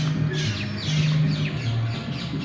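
Two tiny birds in a cage at Bono Bilash zoo give rapid high chirps and squawks, close and fairly loud, repeating throughout over a low steady hum.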